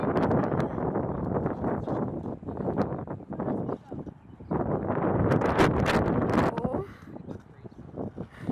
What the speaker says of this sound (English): You have to wait for a big gust to come.